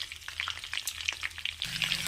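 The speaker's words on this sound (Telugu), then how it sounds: "వీటన్నిటిని ఇలా కలుపుకోవాలండి చిటపట్లాడే విధంగా" Cumin, mustard seeds and curry leaves splutter in hot oil for a brinjal-onion curry tempering, with rapid irregular crackles and pops over a soft frying hiss, close and unbroken by speech.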